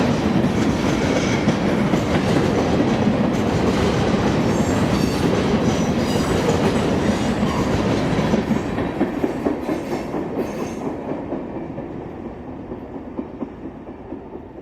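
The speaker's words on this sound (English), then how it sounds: "Owl's flange-bearing diamond allows S-line traffic to ride over the intersecting Florida Northern Railroad without the traditional pounding on open joints." A train rolls across a flange-bearing railroad diamond where the S-line intersects the Florida Northern Railroad, a loud, close rumble with rhythmic wheel clatter that gradually fades as the cars pass.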